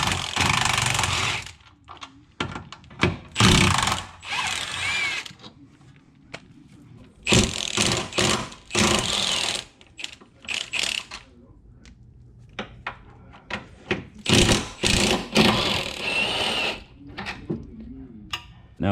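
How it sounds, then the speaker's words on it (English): Tools work loose the rear subframe and control arm bolts on an older BMW (E46, E36 or E30), giving loud, close bursts of rattling, clanking and ratcheting separated by quieter gaps. "And we're going to loosen up these rear subframe bolts,"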